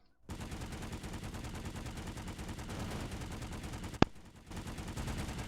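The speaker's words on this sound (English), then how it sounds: "This is not how you do suppressive fire." Sustained automatic gunfire in the PlanetSide 2 video game, a rapid continuous rattle of shots that breaks off briefly around a sharp loud crack before resuming.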